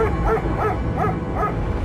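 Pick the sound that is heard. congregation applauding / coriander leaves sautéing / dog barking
dog barking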